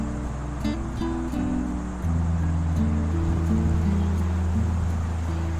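A kitchen machine rinsed with water after dishwashing, a steady close rush and splash of running water over a low humming drone.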